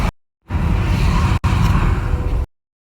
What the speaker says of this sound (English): I have my windows open to feel the wind while towing.